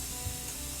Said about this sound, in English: take a spray bottle and just spray that